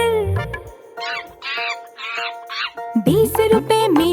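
Cartoon cat meows repeated several times inside a sung Hindi nursery rhyme, loud and clear over music, with a singing voice that may imitate the meowing.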